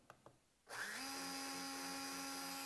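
Electric motor of a Totip SRC Lancia Delta S4 Group B radio-controlled car starts after a brief quiet moment, rising into a steady, loud whine that holds constant to the end, with no voices.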